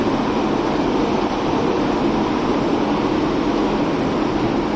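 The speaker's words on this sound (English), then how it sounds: "Train slowing down." Train in the Train Sim World 2 game decelerating during rush hour, a steady loud rumble of engine and rail noise with a constant low hum throughout, no talking.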